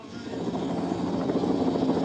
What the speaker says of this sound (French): Regardez bien le relevé de tête quand il entend l'hélicoptère.